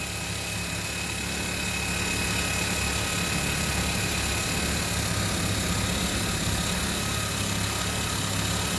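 A portable twin tub washing machine on its spin cycle, run from a generator, gives a steady, loud mechanical whir and hum with a constant rotational drone, unbroken for several seconds.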